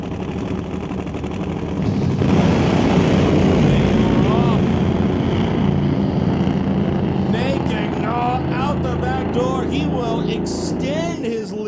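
Drag racing motorcycles idle and then launch down the strip at Mission Raceway Park during the 2024 West Coast Outlaw Shootout, a loud sustained engine roar that jumps in intensity and continues under an announcer's talk.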